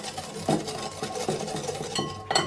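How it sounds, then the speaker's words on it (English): Stevia and cocoa powder whisked together in a bowl, giving a series of soft, rhythmic scraping and tapping strokes at close range with no talking. "I like to give those just a little whisk together."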